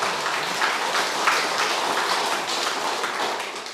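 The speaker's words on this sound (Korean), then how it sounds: "박수 한번 힘차게 한번 쳐봐요." Congregation clapping together during a church worship service, a steady, dense wash of applause that carries evenly from start to finish with no voices over it.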